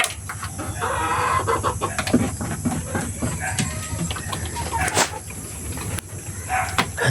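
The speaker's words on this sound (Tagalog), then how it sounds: "Ayan yung manok, oh." Several chickens cluck and squawk nearby in a busy farmyard, with scattered louder calls over a constant low rumble.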